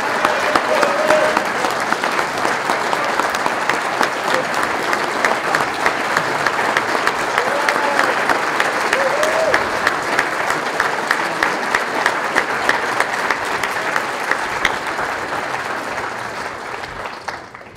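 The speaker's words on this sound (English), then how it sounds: "we owe her a big, big, big round of applause" Sustained audience applause fills a conference hall after a speech at the PIABA annual meeting, loud, dense and steady for about seventeen seconds before tapering at the end, with a few faint crowd voices.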